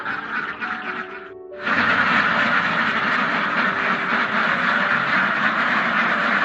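A large flock of farm ducks quacks loudly and continuously while waiting to be fed, a dense, close chorus that swells suddenly after a brief lull.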